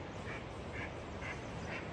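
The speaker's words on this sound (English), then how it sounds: "The birds are out." Outdoors, a bird repeats a short call four times at an even pace, set against a steady wash of wind or background noise.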